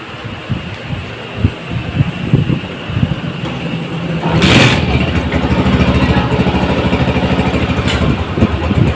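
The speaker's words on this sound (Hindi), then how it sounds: "बाइक हमारी स्टार्ट हो गई है और बहुत प्यारा साउंड है" A 1985 Honda CG 125 motorcycle engine, modified, cranks with uneven chugs, catches with a burst, then settles into a loud, steady idle close to the listener.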